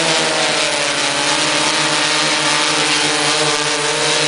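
Motors on a waterproof quadcopter hum as it hovers after decelerating, a loud, steady, close droning buzz with a constant pitch throughout the short stretch.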